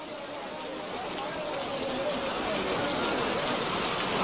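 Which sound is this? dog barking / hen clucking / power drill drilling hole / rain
rain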